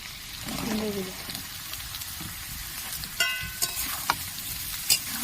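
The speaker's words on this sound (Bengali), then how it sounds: "আলুগুলো কিন্তু প্রায় অনেকটাই লাল লাল করে ভাজা হয়ে গেছে" Gentle sizzling of potatoes frying in a pan, with a spatula scraping and clinking against the pan several times.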